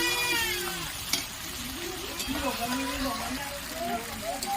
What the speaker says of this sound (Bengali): টমেটো পেস্টটা দিয়ে আমি ভালো করে কষে নেব যতক্ষণ না টমেটোর কাঁচা গন্ধটা যাচ্ছে